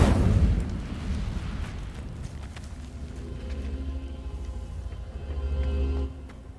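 An Incendio fire spell cast in the video game Hogwarts Legacy, a loud fiery burst at the start that settles into a low rumbling roar and swells again near the end, no talking.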